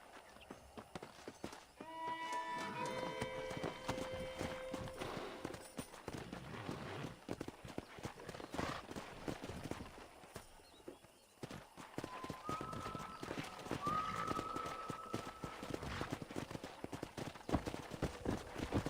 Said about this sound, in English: Let's see if we can't wrangle some horses.